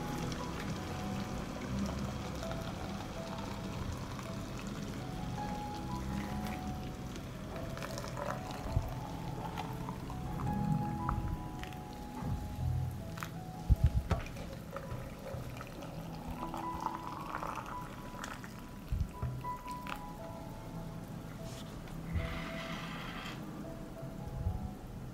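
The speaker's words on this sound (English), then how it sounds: "I pour hot water into the jars to cover the pepper" Hot water is poured into jars of pepper, a soft continuous trickling and splashing under faint background noise, with a few louder knocks and clinks around the middle.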